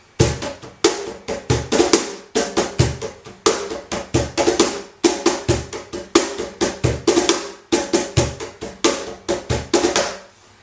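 A cajon played at speed in a steady, repeating sevillanas pattern of sharp slaps and deeper bass strikes, close and loud, with brief pauses between phrases.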